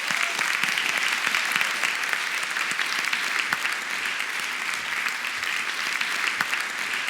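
A large theatre audience at a stage mentalism show applauds steadily, a dense continuous roar of many clapping hands with a few sharper individual claps standing out, loud and sustained.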